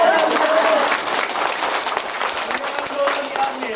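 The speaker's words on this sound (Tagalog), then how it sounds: "Malakas ang palakpak kasi dapat lang na malakas ang palakpak" Loud sustained applause from a crowd at a school stage event, a thick continuous clatter of clapping with voices and a few cheers mixed in underneath.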